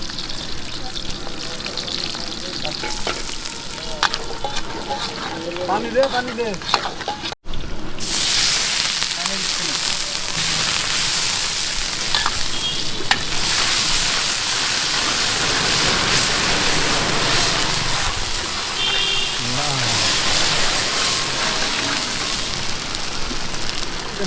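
Onions and chilies sizzling in a hot pan at a street-side stall for pasta, a loud, steady hiss that jumps louder after a brief gap, with voices talking over it.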